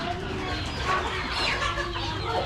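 Chickens cluck briefly in a Cambodian village, quick, faint calls mixed into a noisy outdoor background.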